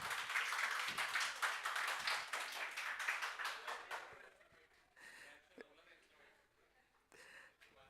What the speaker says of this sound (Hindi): एक बार इसके लिए ताली बज दीजिए भाई